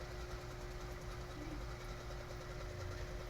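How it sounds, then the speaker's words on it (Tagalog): A cooling fan inside a Kevler GX-2000 amplifier runs with a steady, low whooshing drone and a faint constant hum, even and unchanging throughout, heard alone. "Tapos ito yung fan."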